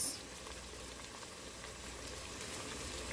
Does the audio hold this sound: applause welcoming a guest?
no